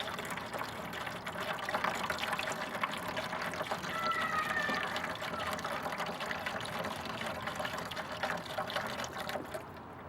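Broth poured from a container into a roasting pan holding a turkey, a steady liquid trickle and splash heard close for several seconds, with no talking.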